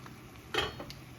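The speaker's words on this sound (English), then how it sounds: "before I open the lid" A metal pot lid clanks once as it is lifted off a boiling pot of mussels, a short bright rattle over a quiet kitchen background.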